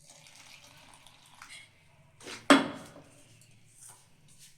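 Milk is poured into patishapta batter in a bowl and mixed in with a spoon, giving one brief splashy pour and clink that stands out, loud and close, between quieter faint handling sounds.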